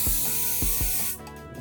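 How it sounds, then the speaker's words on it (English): A pressurized basting spray can hisses in several short bursts, close up, with faint mechanical clicks between sprays. "The handy dandy basting spray."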